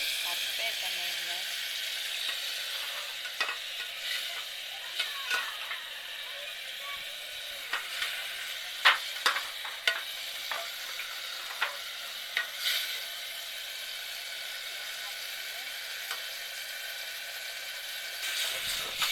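Maggi noodles boiling down in a pan, a steady hiss of bubbling with scattered clicks and spoon scrapes, close and fairly quiet.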